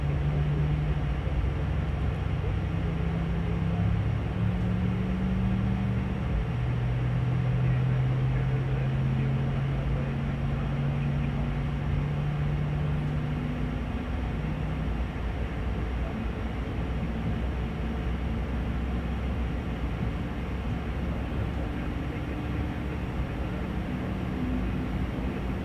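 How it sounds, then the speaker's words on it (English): Engine number 2 of an Airbus A220 spooling up in a flight simulator, a continuous low rumbling whine rising gradually and holding steady throughout, with no talk. "Got a good start on engine number 2."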